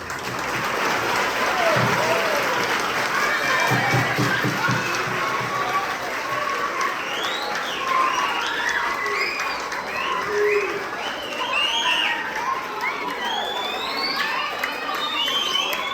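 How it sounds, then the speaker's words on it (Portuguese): Sustained audience applause from a crowd at a gathering, dense and steady clapping with cheers and children's shouts mixed in, running throughout at a fairly even, loud level. "uma salva de palmas."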